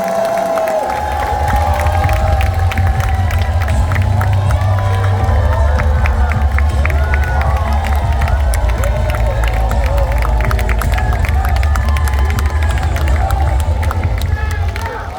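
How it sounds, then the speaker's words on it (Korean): A large crowd at a Democratic Party leadership convention in Gangwon cheers and applauds loudly and steadily as candidate Lee Jae-myung is introduced, with a deep rumble and an announcer's voice over the din. "뜨거운 박수로 맞아주시기 바랍니다"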